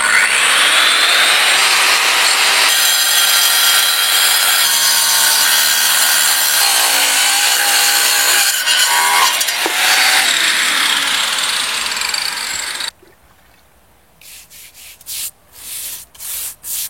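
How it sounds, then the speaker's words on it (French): A power saw wet-cuts a stone paving slab in several passes for a terrace, a loud harsh grinding whine held for about twelve seconds before it cuts off, followed by quieter scraping and knocking sounds. "Le découpage de la dalle s'opère sous arrosage. La découpe s'effectue en plusieurs passes"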